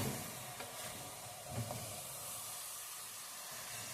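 Ground meat for spaghetti Bolognese sizzling in a pan as it is stirred, a steady close frying hiss with a few faint scrapes of the spoon.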